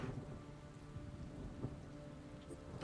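Spell rain from the Wrathful Rain area attack in Othercide, a faint steady hiss of falling rain with low rumbling underneath and a few soft impacts, distant and continuous with no voices.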